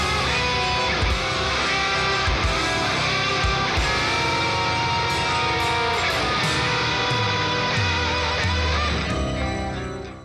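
Full band song section where a whole tone chord sequence descends step by step, loud and dense throughout, with layered instruments sustaining as the chords move down.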